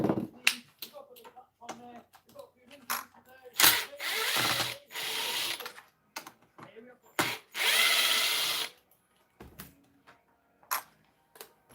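Repeated ratchet clicks and short power-tool bursts while unscrewing a part on an RC car, uneven and close, with several longer whirring runs between scattered clicks.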